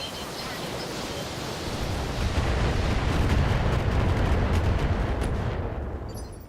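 A full volley from a BattleMech's weapons in BattleTech erupts as a thick, continuous roar of explosions and gunfire, building over a couple of seconds, staying loud and dense, then fading near the end.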